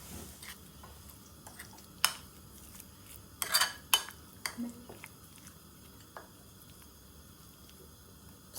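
Soft, intermittent clinks and wet scraping as broccoli pieces are slowly stirred into a thick batter in a bowl, with a few sharper utensil knocks against the side, fairly quiet and close.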